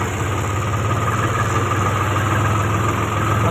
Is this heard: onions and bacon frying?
no